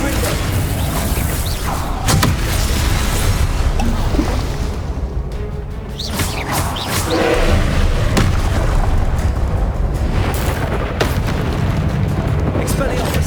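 Repeated booming blasts from the Confringo explosive spell in the Hogwarts Legacy video game, loud and dense through the whole stretch, with rumbling game combat noise between hits.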